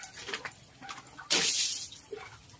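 Water from a hose sprays in a farm pen while pigs are showered: soft splashing and spattering for the first second, then a loud hissing burst of spray, with faint splashes afterward.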